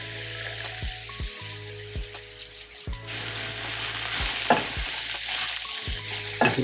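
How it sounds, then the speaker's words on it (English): Shiitake and crimini mushrooms sauté in oil in a pan with a steady, close sizzle and crackle, broken by a few soft clinks and stirs, and no talking. "The mushrooms are almost there. Sauteing them right now."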